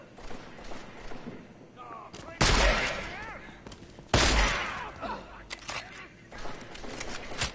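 Loud bursts of gunfire in the video game Deus Ex, with two heavy volleys standing out above a busy background of game noise and scattered shots, while people talk over the action.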